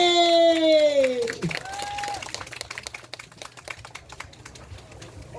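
An audience claps for a live Korean pumba street comedy performance, with scattered, irregular claps building after a loud voice and continuing near and fairly dense while a few voices call out.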